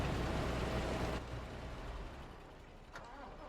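A loud, steady tractor engine rumble in the video game Farming Simulator suddenly drops off after about a second as it is shut off, leaving a quieter fading hum and faint noise.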